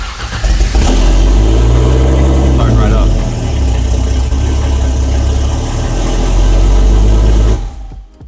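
A Barra-swapped Ford GT350 engine turning over and catching, then settling into a loud, deep, lumpy idle with a brief rev before cutting off, while people talk nearby.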